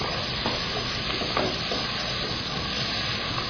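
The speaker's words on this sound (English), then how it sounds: "just cook these tomatoes a little bit and then we can add mushrooms" Chopped tomatoes and onions frying in a pan, a steady close sizzle and hiss with a few faint stirring scrapes, no talk.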